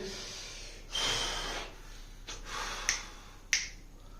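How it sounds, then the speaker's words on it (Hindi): Fingers snap twice, crisp and close, in the last seconds, after a breathy puff of air, in a quiet room. "ऐसे चुटकी मारते हैं"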